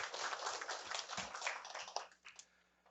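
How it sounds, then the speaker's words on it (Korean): Clapping from attendees at a Korean district office staff meeting, a short burst of moderately dense applause that tapers off after about two seconds, with no talking. "다시 한번 큰 박수"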